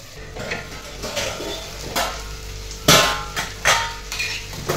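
Okra sautés in a pan, with a soft sizzle under intermittent scraping and clinks of a spoon stirring against the metal, close by and without talk.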